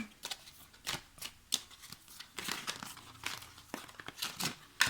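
Oracle cards shuffled and drawn by hand, a rapid series of crisp papery flicks and crinkles in an irregular rhythm, close and fairly quiet, with no talking.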